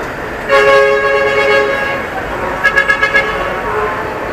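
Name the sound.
traffic with car horns honking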